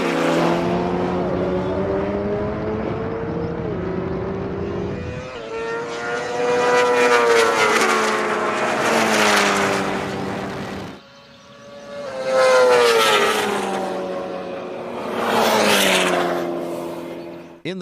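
Launch of a BMW S1000RR superbike against a McLaren 720S V8 supercar in a drag race: loud, harmonic engine howls rising in pitch through repeated gear changes, surging twice in succession.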